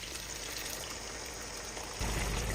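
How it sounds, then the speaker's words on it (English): Sauce pours into a hot pan of braised tofu, a steady liquid rush that swells into a louder sizzle near the end, close and alone. "Pour in the sauce."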